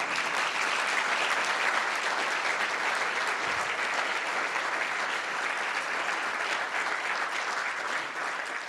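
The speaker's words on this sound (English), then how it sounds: "We applaud now." An audience at a university lecture breaks into sustained applause, a thick, even wash of many hands clapping throughout with no voices over it.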